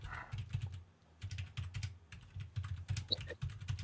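Rapid typing on a computer keyboard, a steady patter of close key clicks in uneven bursts with brief pauses, heard alone without talk.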